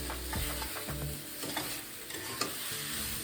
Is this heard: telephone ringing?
no